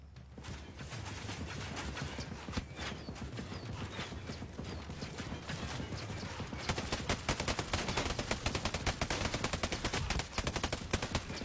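Video game gunfire from an MP5 and a sniper rifle, rapid dense bursts of shots that grow heavier and more continuous in the second half, with no voices.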